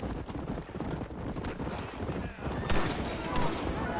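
Horse hooves clip-clopping in the Red Dead Redemption video game, a busy galloping patter mixed with gunfire bursts and game noise throughout.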